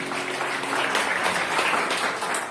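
Audience applause at a Portuguese-language church gathering on inner healing, a steady wash of clapping hands at moderate distance with no speech over it for a couple of seconds.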